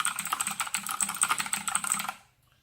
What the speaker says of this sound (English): the only real downside to a mechanical keyboard is the clickety-clackety